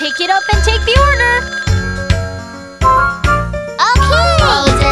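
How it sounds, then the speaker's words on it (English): A cartoon telephone ringing in a children's nursery-rhyme show, heard as a bright, melodic, jingly ringtone in repeated bursts, loud and up close. "The phone is ringing."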